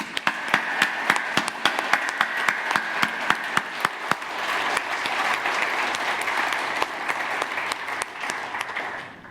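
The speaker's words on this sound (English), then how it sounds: "give a loud round of applause for the people who are working for all of us to enjoy" A few sharp individual claps ring out first, then swell into loud, sustained applause from an audience at a culinary event honoring the kitchen staff, evening out into a steady wash before fading slightly.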